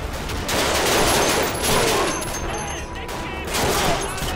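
Rapid bursts of gunfire from the video game Call of Duty 2, dense and loud, come in repeated volleys over a few seconds while a player's voice is faintly heard.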